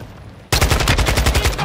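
After a half-second lull, a rapid burst of automatic gunfire erupts up close in an online shooter match, loud repeated cracks in a steady rhythm with no voices.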